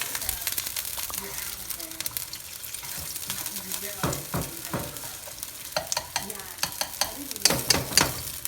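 Fried rice ingredients sizzle and fry in a wok while being stirred and flipped, with scraping clatters and crackling bursts throughout; a voice talks faintly in places under the cooking noise.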